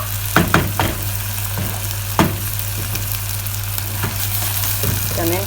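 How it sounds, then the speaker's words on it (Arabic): Fish and onion sautéing lightly in a pan for a catfish and tomato sauce stew, giving a steady close sizzle and fry with a few sharp stirring clicks and scrapes, no talking. "حطيتهم بس تشويحه خفيفه كده مع البصله"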